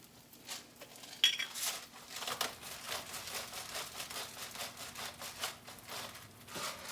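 A spoon works lemon juice, salt and pepper into ricotta cheese in a bowl, giving a run of quick scraping clinks and soft wet stirring taps, close and fairly quiet, with no talk.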